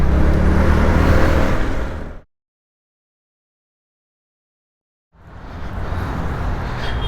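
A vehicle passes close on a narrow road in Mangaluru, its loud engine whir filling the opening seconds, then a stretch of total silence before the road noise returns just as strongly.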